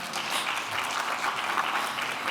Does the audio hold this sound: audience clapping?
yes